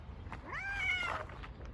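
A sick stray cat lets out one drawn-out, wavering meow, close and fairly quiet, with soft indoor background noise around it.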